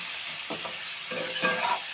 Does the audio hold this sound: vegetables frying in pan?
yes